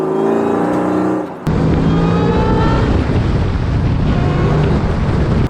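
Ford Mustang engine running loud and close, a steady rumbling drone with a brief dip near the start before it resumes at full strength, wind noise mixed in.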